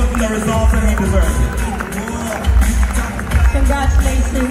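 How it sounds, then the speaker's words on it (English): Sustained crowd noise with applause and cheering swells at the 2024 Ghana Football Awards ceremony for the Team Coach of the Year, dense and continuous with background chatter. "Please keep your applause going"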